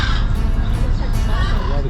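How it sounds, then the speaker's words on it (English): Birds call near the cruise docks in Puerto Vallarta, harsh crow-like caws rising over steady outdoor background noise for a couple of seconds. "But you can hear the birds."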